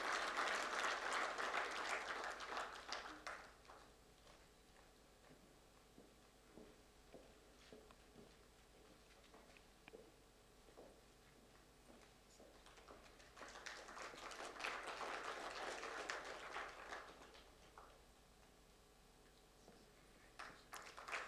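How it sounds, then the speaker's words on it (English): An audience at a Constitution Day of India prize ceremony at the Embassy of India in Kuwait breaks into applause twice, each a few seconds of clapping that swells and fades, with a long quiet gap between. "Please give her a big round of applause."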